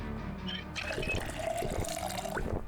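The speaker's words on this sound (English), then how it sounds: "Fill the empty bottle." Water running from a sink tap into an empty bottle in Project Zomboid, a steady liquid fill sound lasting a few seconds with some background game music underneath.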